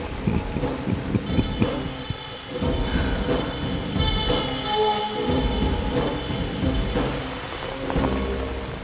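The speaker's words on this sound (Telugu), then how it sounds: "it's raining" Steady rain pours throughout with a deep rumble of thunder rolling underneath, loud and close, with no voices.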